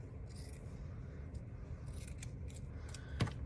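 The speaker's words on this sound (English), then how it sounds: "I might just kind of make kind of a wavy line with my scissors with the felt" Quiet snipping of scissors cutting felt into a wavy line for a craft piece, soft rustling crunches under low background hiss with one brief louder click near the end.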